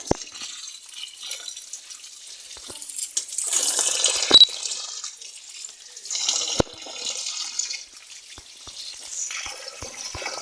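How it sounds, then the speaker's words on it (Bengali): Fish being rinsed under running water in a home sink, with splashing, trickling and dripping that rise and fall over several seconds, plus a few sharp knocks; no one speaks. "তো মাছগুলো এখন ধুয়ে নিচ্ছি।"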